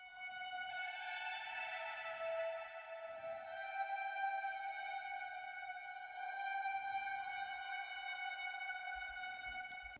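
A synth lead carries a sustained, horn-like melody pitched up an octave, smooth and tonal over faint low thumps, moderately quiet with no talking.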